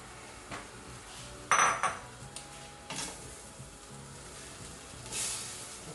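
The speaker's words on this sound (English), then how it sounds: "So then we're going to add our onions." Chopped onions go into a pan of browning ground beef for lasagna, giving a few sharp metallic clinks of a utensil against the pan over a faint background, with one louder scrape near the start.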